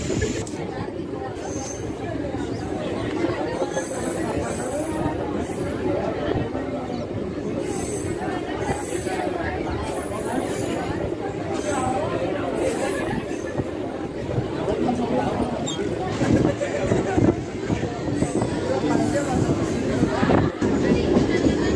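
A Tumkur to Yeshwanthpur passenger train in Karnataka rolls along with a steady, loud rumble and rattling clatter of the carriages throughout, while passengers chatter nearby.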